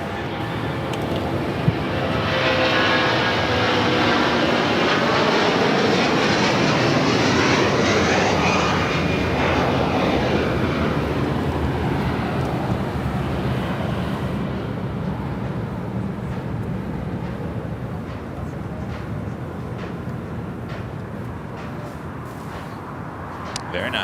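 Large jet airliners, including a 747 cargo plane, taxi and roll at LAX, producing a loud, sustained engine roar that swells and then slowly fades into the distance.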